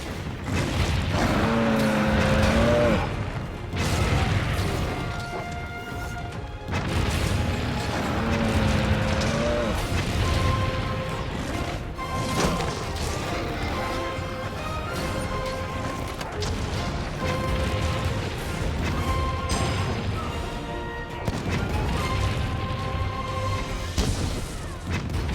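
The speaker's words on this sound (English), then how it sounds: "That's what we got cannons for." Heavy cannon fire from the village defenses in Monster Hunter Rise, a run of loud booming blasts and crashes repeating across the stretch over a dense, continuous game soundscape of music and clatter.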